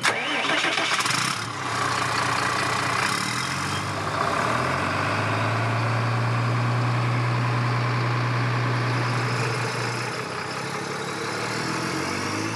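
A car engine starts up after a broken bolt was repaired, cranking and catching into a loud, steady mid-pitched hum that runs most of the way through, with faint voices underneath.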